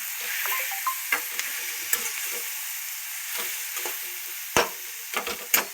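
Tomato chutney with salt sizzles in oil while a spoon scrapes and stirs it, giving a steady frying hiss with several sharp clinks and knocks against the pan.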